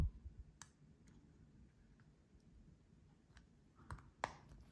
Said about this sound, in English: And just click it all back in place.